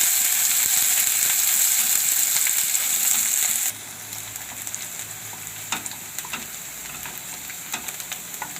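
Onions frying in oil with garlic as the base of a cauliflower and pea gravy curry: a loud, bright sizzle that drops to a softer crackle midway, with occasional stirring clicks and no talk.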